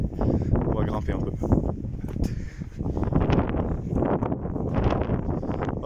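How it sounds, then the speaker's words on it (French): Strong wind buffets the microphone on the beach at Saint-Malo, France, a loud continuous roar and rumble with gusts rising and falling, and someone talks over it. "il y a beaucoup de vent, je suis désolé"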